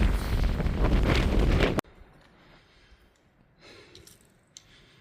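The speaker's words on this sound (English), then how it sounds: "but just a bit windy" Strong wind buffets the microphone on a snowy Pacific Crest Trail mountain path, roaring for under two seconds before dropping away to a faint breeze.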